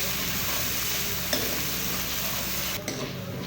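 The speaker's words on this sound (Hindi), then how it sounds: "इसे हल्का सा भूनेंगे लहसुन अदरक के पेस्ट को।" Ginger garlic paste fries with a steady sizzle and a soft stir or scrape partway through, close and continuous, no voices.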